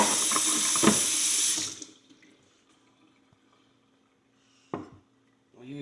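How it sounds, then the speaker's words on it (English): Running tap water pours onto a size 0 pony front horseshoe during restoration, a steady loud splashing rush that stops after about two seconds, followed by quiet and a brief clink. "we will wet it occasionally to keep that horseshoe nice and wet so it doesn't get too hot."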